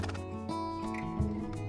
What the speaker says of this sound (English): The kids get to sit on an Appaloosa horse and ride it around.